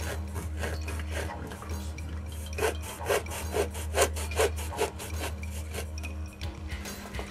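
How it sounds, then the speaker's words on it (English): A hacksaw cuts across a cork for a puppet-making workshop project, giving a steady run of rasping back-and-forth strokes that are close, fairly loud and heard alone. "Two corks. Hacksaw across it."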